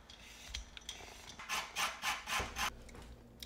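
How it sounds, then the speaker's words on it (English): Rhythmic rasping strokes of radishes and Tokyo turnips being shredded on a box grater, about six scraping passes, close and fairly quiet, quickening toward the end with a few clicks before. "We're gonna peel these and shred them on a box grater"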